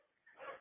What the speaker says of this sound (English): And sorry about the dog.